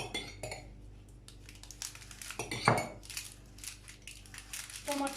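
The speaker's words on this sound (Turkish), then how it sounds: "Yazdan hazırladığım e, sosu ben pizzaların üzerine sürüyorum." A utensil scrapes and clinks against a metal tray while homemade tomato sauce is spread over tray pizza, producing irregular close scrapes and taps with one louder knock partway through.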